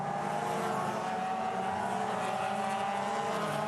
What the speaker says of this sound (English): Toyota 86 Racing Series cars on the track at Sydney Olympic Park